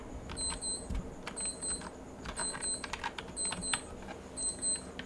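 An alarm clock rings in repeated short bursts of high beeping, a regular pulsing pattern over a steady low room hum, moderately loud and with no talking.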